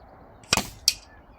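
Two sharp, fairly close shots from a BSA R10TH air rifle fired at a 40-metre target, each a brief crack with a short tail, spaced about a third of a second apart and otherwise quiet.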